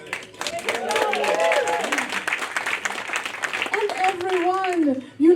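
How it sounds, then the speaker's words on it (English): Audience applause at a spoken-word storytelling performance, a sustained patter of clapping from the crowd while a voice talks over it throughout, ending with a louder burst near the close. "Let's give another round of applause for sharing a beautiful story."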